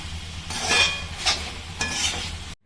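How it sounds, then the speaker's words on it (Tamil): Mutton fry with chopped coriander is stirred in a hot pan, with spoon scrapes and light sizzling in a few distinct strokes before the sound cuts off abruptly. "கட் பண்ணி வச்சுருக்க கொத்தமல்லியை சேர்த்துக்கலாம் சேர்த்துட்டு நல்லா கலந்து விட்டுட்டு ஸ்டவ் ஆஃப் பண்ணிடலாம்"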